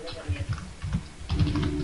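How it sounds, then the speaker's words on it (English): Keys tapping on a computer keyboard in quick irregular bursts, close by, mixed with low background noise. "Well, I can hear you typing."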